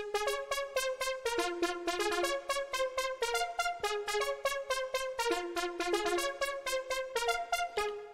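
A sequenced Argon8 synthesizer pulse-wave pattern repeats in quick, bright, buzzy pulses, its notes smeared with a roomy reverb wash that lingers between them.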